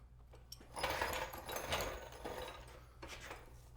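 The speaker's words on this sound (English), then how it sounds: "It did say we could jack it up a little bit, use a jack, and it'll relieve some pressure." A car jack being pumped under a Jeep JKU to relieve pressure during front shock removal, giving a muffled rhythmic mechanical ratcheting and grinding, fairly faint and close, with no talking.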